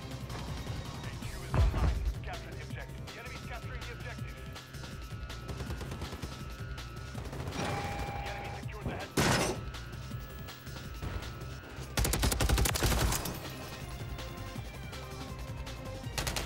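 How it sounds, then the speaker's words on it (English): Video game gunfire in Call of Duty MW3 with an SOA Subverter rifle. Sharp bursts of shots and crashing impacts stand out at intervals over a steady game background, with a player talking at times. "But what was shooting at me, bro?"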